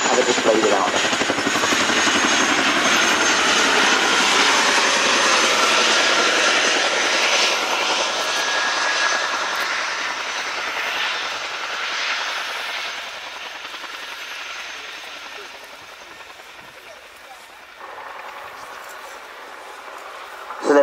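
A Chinook helicopter taxiing on two wheels at an air show gives a loud, steady roar of rotor and turbine noise that eases slightly toward the end, with no one talking over it.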